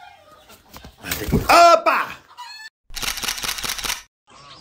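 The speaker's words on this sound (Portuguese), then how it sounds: "Vamos caçar a galinha" Chickens at a home yard: a rooster crows and hens cluck close by, mixed with people talking and a burst of rapid clicking.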